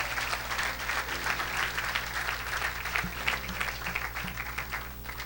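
A church congregation applauds steadily for several seconds, a dense, even wash of clapping from a crowd, with faint low hum beneath.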